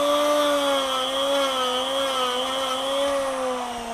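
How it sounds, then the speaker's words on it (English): A rotary saber disc power gouge carves wood with a steady high-pitched whine, continuous and close. "This is your cut saw or saber disc"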